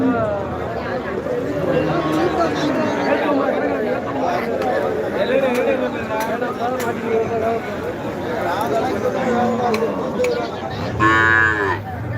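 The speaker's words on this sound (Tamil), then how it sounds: "இப்போதைக்கு இந்த ஜாதி மாடுகளை மட்டும் காட்டுறேன் பாருங்க எப்படி இருக்கு" At a livestock market in Melur, native-breed cattle moo repeatedly over a constant babble of crowd chatter and nearby talk, with one loud, close moo near the end.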